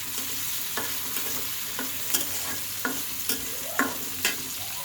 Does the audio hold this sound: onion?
yes